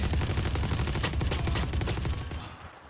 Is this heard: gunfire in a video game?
yes